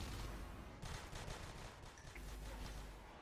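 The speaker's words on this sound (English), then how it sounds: "Some nice shooting going on there." Rapid automatic gunfire rattles in the Natural Selection 2 shooter, a dense, faint, continuous fusillade of shots with no talk.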